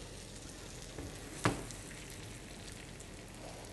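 Breaded pork schnitzel with a sage and parmesan crust sizzles steadily in a hot pan, a soft continuous frying hiss broken by one brief clatter as the piece is flipped over.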